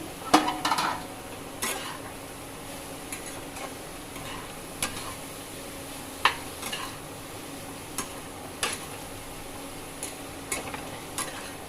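Grated papaya being stirred in a pan, with a soft background sizzle broken by scattered scraping clinks of the spatula, loud at first and then coming at irregular intervals.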